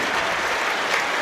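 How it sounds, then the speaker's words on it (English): A crowd applauding at a women's rugby match between Harlequins and Gloucester-Hartpury, a continuous wash of clapping that holds at a steady level for the whole moment. "Warm round of applause for Bethany Randall."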